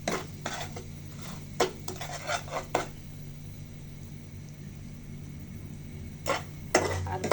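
A utensil scrapes and taps against a pan as melting caramel is stirred, a few quiet clinks and scrapes spaced over a low steady hum, with no talk.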